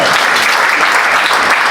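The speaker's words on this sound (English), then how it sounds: "just a quick sound of applause," Dense, steady applause from a comedy club audience, loud and even throughout without a break.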